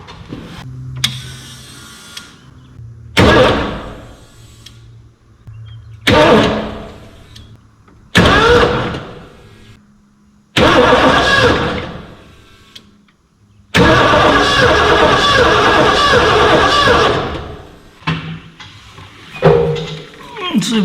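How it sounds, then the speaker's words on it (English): An old Ford car engine cranks repeatedly in loud bursts separated by pauses, then catches and runs for a few seconds before more cranking, close by. "I'll try to crank it here"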